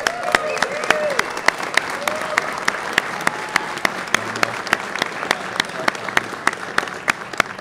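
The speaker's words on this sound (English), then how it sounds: "Give him a round of applause" Sparse rhythmic applause from a crowd at a political rally honouring a sheriff, individual loud claps standing out over a murmuring room while a voice talks through it.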